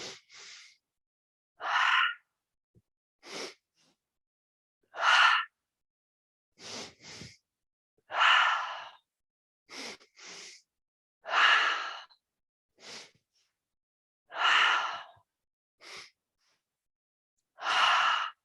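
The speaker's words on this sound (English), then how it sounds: "do that two-part inhale" Yoga breathing done as a two-part inhale: close, airy breaths in short paired bursts separated by quiet gaps, repeating steadily with no talking.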